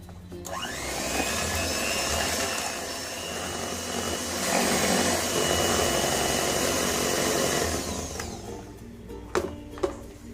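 An electric mixer beats cream with powdered sugar and vanilla essence for bourbon ice cream, giving a steady, close motor whine for about eight seconds before it stops. A few sharp clicks follow.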